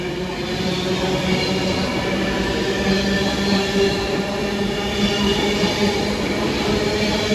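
A Class 150 diesel train pulls away from platform 5 at Preston station, its engine a steady, loud rumble that holds throughout with no one speaking.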